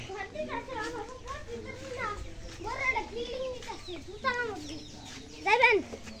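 Chickens cluck and squawk close by, with talking voices mixed in among the calls and a louder burst near the end.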